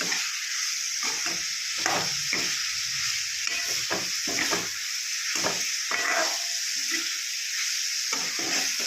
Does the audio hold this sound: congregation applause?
no